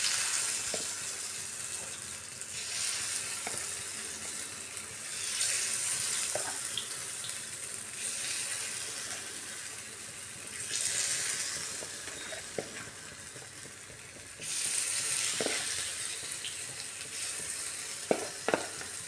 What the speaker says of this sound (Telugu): ప్యాన్ వేడెక్కిందండి. ఇప్పుడు పిండి దీనిలో వేసేస్తున్నాను.